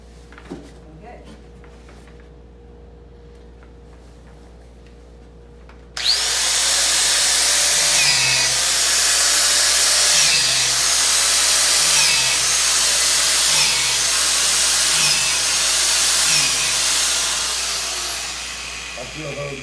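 A power drill bores holes into a log for mushroom cultivation, whining loudly and steadily for most of the clip after a quiet start with faint talk, its pitch wavering as the bit bites into the wood.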